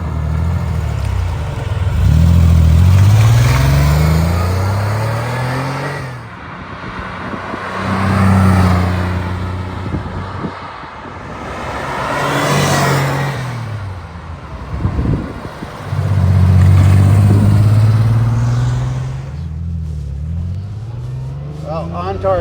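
A 1978 Porsche 911 SC Targa engine pulls through repeated rising-and-falling acceleration sweeps, loud and close from inside the cabin, with someone talking over parts of it.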